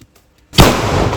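A single sharp, loud Lakshmi vedi firecracker blast from Sivakasi during Diwali after a brief near-silence, followed by a dense crackling, sputtering burst that carries on to the end.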